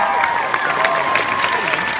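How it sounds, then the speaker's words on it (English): Concert crowd at a show applauding and cheering, a dense roar of clapping with whistles and shouts ringing through the arena, loud and continuous. "give them a round of applause"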